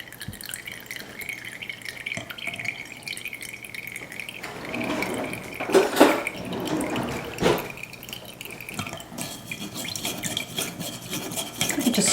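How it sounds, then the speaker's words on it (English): Tamarind juice poured through a sieve, a continuous liquid trickle and splash that swells midway with sputtering drips, then settles into a steady pour at close range with no voices. "you want to just pour it through a sieve to keep the residue from going inside"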